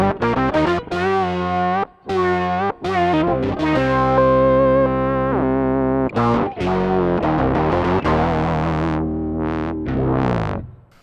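Fat guitar synth tone from two Roland GR300 patches layered together, playing a loud, continuous melodic line with gliding bends, sustained notes and brief gaps, bright and buzzy throughout.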